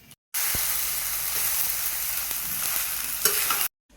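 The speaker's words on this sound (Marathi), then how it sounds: "तर मावशी करत आहे आज साबुदाणा" Sabudana frying and being stirred in a pan, a continuous close sizzle with occasional scraping of the spoon, no one speaking.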